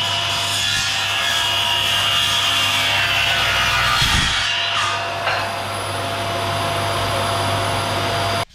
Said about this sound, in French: Premier test de découpe sur du stratifié de 7 mm.